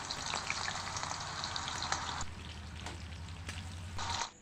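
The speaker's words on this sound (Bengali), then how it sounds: "এখন তেলে দিয়ে দিচ্ছি ফোড়নে দুটো তেজপাতা, আর দিয়ে দিচ্ছি কেটে রাখা পেঁয়াজ।" Two bay leaves and chopped onion hit hot oil in a pan for an aloo dum curry, giving a loud continuous sizzle and crackle that eases slightly midway and swells again near the end.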